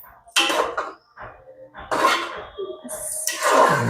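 Mutton curry being stirred in a pot after ghee is added, with the heat just switched off: scraping, clattering bursts of a spoon against the pot come in three uneven rounds, close and fairly loud.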